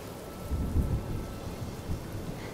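Steady rain with low rumbling thunder in Honkai: Star Rail, a continuous soft wash with deep rolls that swell and fade.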